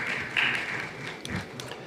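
Crowd clapping for Dustin Poirier, a continuous hiss of applause at moderate level with scattered individual claps standing out, steady throughout the short stretch.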